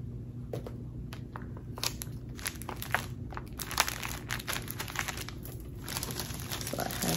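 Tape handled and crinkled while wrapping a kids' gift, a busy run of close crackling, crumpling bursts and short tearing sounds over a low background hum.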